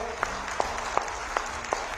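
An audience applauds outdoors at a ceremony in Siddhpur, Dharampur, marking 75 years of Himachal statehood. Crisp claps stand out about every third of a second over a constant crowd wash.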